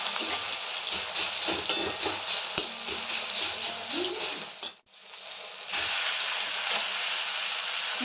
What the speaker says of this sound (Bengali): মোটামুটি পেঁয়াজটা আমার ভাজা প্রায় হয়ে এসছে